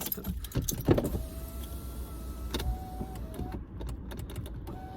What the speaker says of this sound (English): Why is my other window not going down?